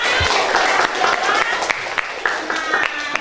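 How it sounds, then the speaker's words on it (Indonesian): A room full of people clapping steadily and briskly throughout, with a few sharper claps standing out near the microphone. "tepuk tangan untuk kawan kita semua"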